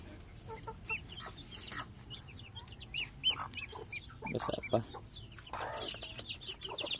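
A native hen clucks in short repeated bursts alongside other farmyard fowl, with a person speaking briefly over the birds.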